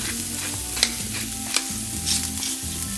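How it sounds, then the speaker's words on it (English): Shallots sizzle and fry in hot olive oil in a pan while a utensil stirs them, with scraping clicks standing out over a steady close crackle; no talking. "give it a stir"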